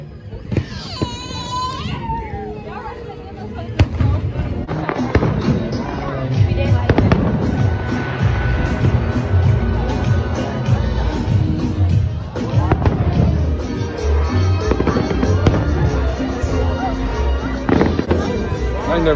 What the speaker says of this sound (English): supposedly there's fireworks every Wednesday here.